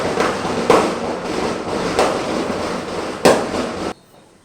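Dense crackling bangs of Diwali firecrackers fill the air continuously, with a few louder bursts standing out before the noise cuts off sharply near the end.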